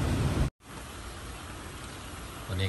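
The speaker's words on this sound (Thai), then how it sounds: "ตอนนี้ก็เริ่มเบาบางลงแล้วครับฝน" Rain after a storm at a Khok Nong Na farm falls as a steady, even hiss, briefly cut off once near the start before the soft continuous patter resumes.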